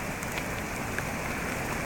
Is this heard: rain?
yes